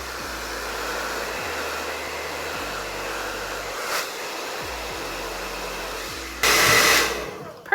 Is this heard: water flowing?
no